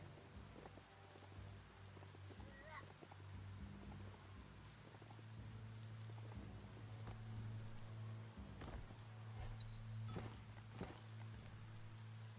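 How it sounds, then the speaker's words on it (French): Rain falls steadily in the video game Biomutant, a soft continuous patter heard at low level alongside faint game tones. "soudain il pleut."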